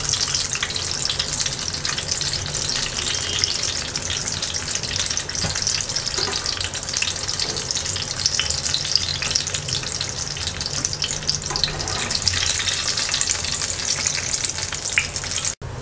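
A pan of eggplant slices crackles and hisses in hot oil in a constant, busy sizzle, close and fairly loud from start to finish, with no voices.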